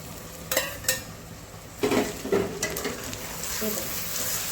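Finely chopped tomatoes drop into frying onions in a pan for a quick chicken dish, then a spoon scrapes and stirs them through a few distinct bursts over a light sizzle.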